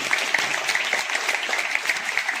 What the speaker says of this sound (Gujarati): આપણે તાળીઓના ગગડાટથી વધાવીએ